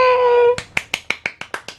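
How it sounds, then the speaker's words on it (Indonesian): A tonal voice-like sound breaks off, followed by about eight sharp, evenly spaced claps for mom, close and crisp, each decaying quickly, in a home kitchen after making ramen. "Tepuk tangan buat mama."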